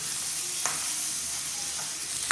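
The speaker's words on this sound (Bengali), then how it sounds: "মা এখানে মাছের তেল ভাজা বসিয়েছে।" Fish oil fries in a pan with green chili, onion, salt and turmeric, a steady close sizzle with a few soft stirring clicks.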